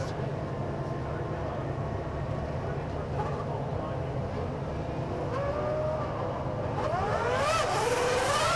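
Formula One cars at the 2001 Australian Grand Prix in Melbourne setting off on the formation lap, with rising engine whines that build toward the end, beneath a commentator speaking.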